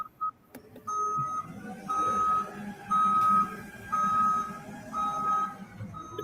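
A truck reversing, with its backup alarm sounding five evenly spaced loud beeps about a second apart over low engine rumble.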